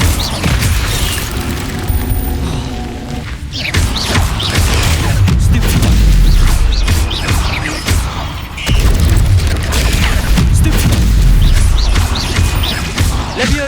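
Booming fire-spell explosions from Incendio in Hogwarts Legacy, several heavy blasts and crashes spread across the stretch amid a busy, loud combat mix.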